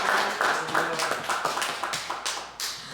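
A church congregation at Sunday worship claps together in a short burst of distinct, fairly quiet hand claps with a loose, uneven rhythm, heard alone without talk.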